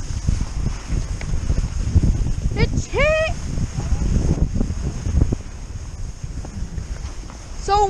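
Wind on a ski slope buffets the microphone in a steady rough roar, with voices shouting briefly over it.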